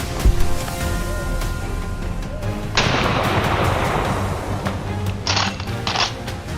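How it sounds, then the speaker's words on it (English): A rifle shot at a wild hog during a hunt cracks out as a single loud, abrupt blast near the start, followed by a long decaying roar and later a couple of short bright bursts. "Locking my aim, I gently squeezed the trigger."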